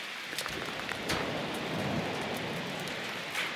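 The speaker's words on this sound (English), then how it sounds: "the hail's bashing on the roof." Hail battering the roof of an old hut during a big Alpine storm, a dense rattling hiss with a few sharper bursts of heavier strikes, heard from shelter close by.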